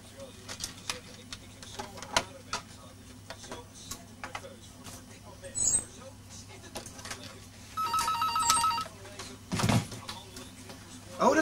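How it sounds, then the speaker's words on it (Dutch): A telephone rings behind the scenes of a radio show, a clear electronic ring partway through that stands out over ticking and faint background studio noise. "Telefoon."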